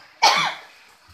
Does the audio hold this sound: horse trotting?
no